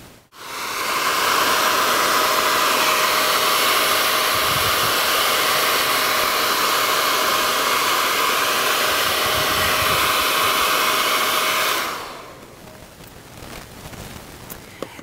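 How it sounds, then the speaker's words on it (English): A hairdryer blows steadily and loudly at close range to heat a nickel-titanium shape-memory spring, a continuous whooshing hiss with a faint whine that runs for about eleven seconds before cutting off to quiet room noise. "we can do it very simply just by heating it with a hairdryer"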